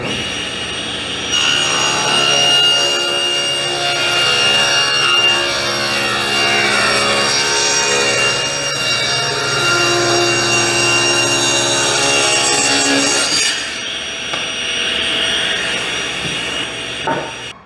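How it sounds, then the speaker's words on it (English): Table saw ripping a wooden board to width: a sustained loud whining cut with shifting tone as the wood feeds through, then the blade note drops and spins down near the end. "So put it in the table saw."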